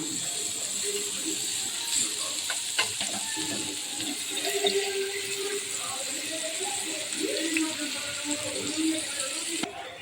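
Tuna pieces fry in a pan after being turned over, producing a steady moderate sizzle with intermittent clicks and rattles of a utensil, heard up close for a Kerala-style tuna curry.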